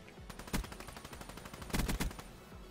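Weevil rifle from Call of Duty Black Ops 3 firing in rapid bursts, sharp repeated cracks with a heavier double volley near the end, close and fairly loud.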